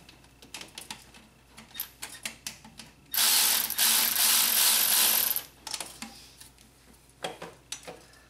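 A ratchet clicks rapidly and close up while running down starter bolts on a Honda Accord 2.4L, with a loud whirring burst of about two seconds in the middle and quiet clicking before and after.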